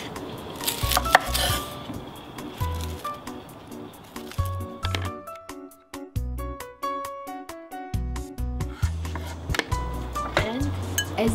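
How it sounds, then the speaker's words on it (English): A knife chops onions finely on a board, giving quick, irregular taps that come in short bursts over a soft background. "I'm gonna chop my onions very finely"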